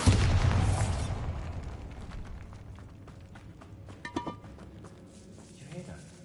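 A Bombarda spell explosion in Hogwarts Legacy bursts loudly at the start and fades into rumbling debris, followed by scattered smaller cracks and pops, with a voice briefly present.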